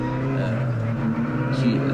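Race cars at a Snetterton trackday roar past in a steady engine drone, fairly close, with no pause over the short stretch.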